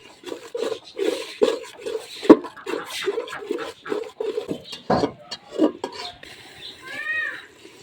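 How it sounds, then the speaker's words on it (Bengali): Spices with salt, turmeric and chili are stirred and fried in a pot for vegetable khichuri, giving a rhythmic series of close spoon scrapes and clinks against the metal, fairly loud and repeated every half second or so. "ভালোভাবে মশলাগুলো কষে নিচ্ছি।"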